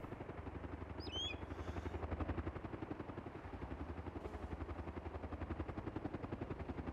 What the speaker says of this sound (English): I hear a heli, Mozzie.